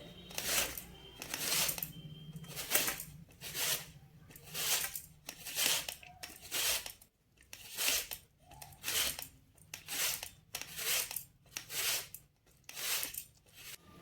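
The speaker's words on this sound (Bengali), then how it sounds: "এটাকে এইভাবে গ্রেট করে নেব। এইভাবে লম্বা লম্বাভাবেই টানবো" Raw mango being grated in long strokes on a kitchen grater, a series of rhythmic scraping rasps, each about half a second, repeating steadily and close up with brief pauses, no voices.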